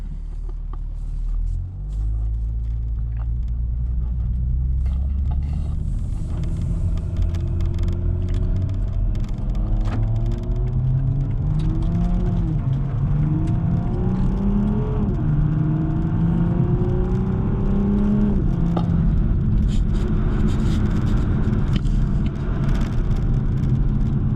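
A 2021 Toyota GR Supra 3.0 is heard from inside on a winding road, its engine droning steadily with rising and falling revs as it accelerates through bends, loud and continuous with no talk.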